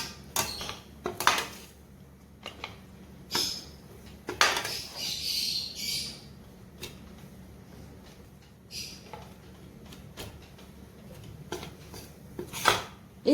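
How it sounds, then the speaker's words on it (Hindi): A whisk stirs gram flour roasting in a pan, giving intermittent metallic clinks and scraping taps against the pan at close range amid quiet gaps. "इस तरह से हम अब बेसन को भूनेंगे।"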